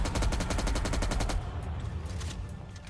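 M60 machine gun firing in a video game: a loud, close, rapid burst of evenly spaced shots lasting about a second and a half, then cutting off into quieter background noise.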